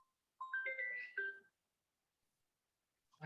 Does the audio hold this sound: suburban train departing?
no